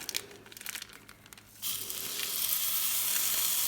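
Chopped meat dropped into a hot cast iron pot, starting with crinkling and clattering handling noises, then a sudden steady hiss of sizzling that continues close and loud.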